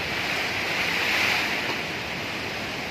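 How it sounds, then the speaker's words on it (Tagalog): Strong Typhoon Odette wind roars steadily and loudly around a house, a dense, unbroken rushing with slight swells in strength and no voices over it. "Grabe lakas ng hangin oh."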